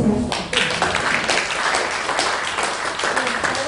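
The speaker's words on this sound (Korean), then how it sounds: "박수 좀 쳐주세요." An audience at a Korean standards course presentation gives dense, sustained clapping that fills the room steadily for several seconds.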